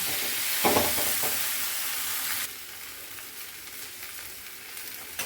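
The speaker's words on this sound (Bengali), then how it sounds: "দিয়ে একটু আলুটা ভাজা ভাজা করবো।" Potatoes fry in oil in a pan, a loud bright sizzle with stirring scrapes at first, then settling into a quieter steady crackle.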